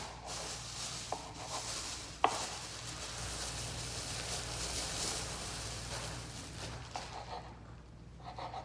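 Food being chopped on a cutting board, a few sharp knife taps against a steady rubbing, scraping background, close and fairly quiet with no talk.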